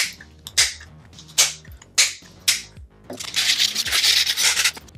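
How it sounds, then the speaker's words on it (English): Stormtrooper belt buttons get their cut edges sanded by hand, giving several short separate rubbing strokes and then a longer, steady stretch of rasping, all close up with no talking. "I've trimmed it down, sanded the edges a little bit"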